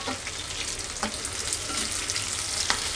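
Onions and green chilies fry in a pan for a dhaba-style matar paneer makhana curry, giving a constant close hiss of sizzling oil with occasional sharper crackles and stirring scrapes.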